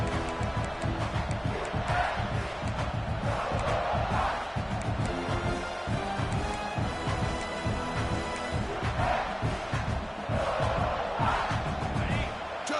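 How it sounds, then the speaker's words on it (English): A fired-up home stadium crowd in College Football 25 roars continuously, with swelling waves of cheering and shouting throughout and no break in the noise. "this home crowd is fired up and ready to make a difference today"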